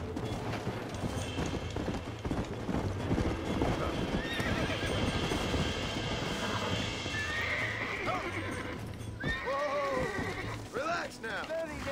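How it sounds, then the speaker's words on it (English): A horse in a video game gallops with rapid, continuous hoofbeats and gives repeated neighs and whinnies, most prominent toward the end, all fairly loud and close. "my horse is already out of stamina"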